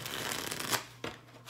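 A thin mermaid oracle card deck being shuffled, a steady close riffling flutter of cards ending in a soft tap, with no voices.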